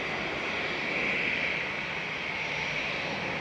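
A five-year-old Airbus A320neo at Manchester Airport, bound for Amsterdam, gives a steady, distant engine roar with a hissing whine that holds even and fairly faint throughout.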